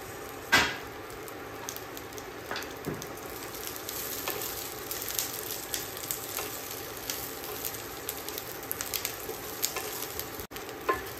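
Chilies with cumin and garlic fry in a pan for a tomato-chili thecha, a steady soft sizzle with occasional crackles and pops and a few faint stirring scrapes, no voices.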